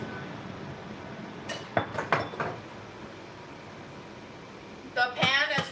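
A Cook's Standard frying pan used while frying carrots in reused oil gives a few sharp metallic clinks and scrapes, first in a cluster and then again near the end, over faint kitchen background.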